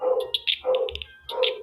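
A dog gives a few loud, close barks and yips in quick, uneven bursts, with brief gaps between them.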